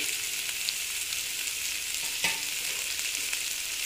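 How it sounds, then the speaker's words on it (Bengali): Carrots fry in a pan with a steady, soft hiss of sizzling oil that holds even throughout, marked by one brief louder crackle near the middle and no voices. "গাজরটাকে একটু ভালো মতো ভেজে নিচ্ছি।"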